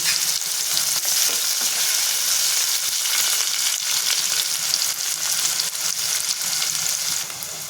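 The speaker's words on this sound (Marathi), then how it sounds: "आणि आता हिंग टाकून घेते लसूण टाकून परतून घेते" Asafoetida and garlic frying in hot oil for rajma bhaji make a loud, continuous, crackling sizzle, close up, with faint stirring scrapes now and then and no voices.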